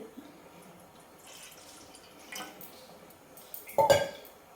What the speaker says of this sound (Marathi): आता परत वरती आता दुसरं पाणी टाकते